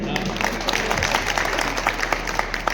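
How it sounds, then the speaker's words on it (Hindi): A crowd at a school's Holi gathering and honour ceremony breaks into brief clapping, a busy patter of hands with scattered sharper claps over a steady low hum. "ताली बजाइए।"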